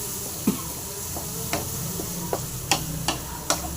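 Neem flowers being stirred and dry-fried in a pan, a steady soft sizzle broken by several sharp scraping clicks of the spoon against the pan, close and moderately loud, with no talking.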